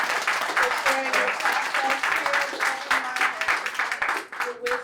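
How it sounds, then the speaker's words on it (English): Audience applause for artists at an art and design talk, a sustained crowd clapping with voices talking over it. "I just want to give another round of applause to these incredible artists."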